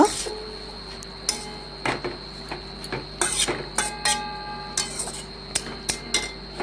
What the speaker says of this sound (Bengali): এই দেখুন শুশনি শাকও নাড়াচাড়া করে ভালোভাবে আলুর সাথে এভাবে মিশিয়ে নিচ্ছি